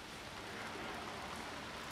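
Constant steady rain falling in a gale-force storm, a dense even hiss of drops on surfaces outdoors, moderately quiet with no voices.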